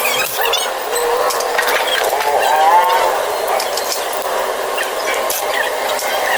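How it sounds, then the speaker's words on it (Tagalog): Ratchet wrench with an 8mm socket loosening the CVT cover bolts on a Honda Click 125 scooter, giving a close, steady clicking whir that runs on for several seconds. "Tatanggalin nyo lang yung mga bolt ng CVT cover."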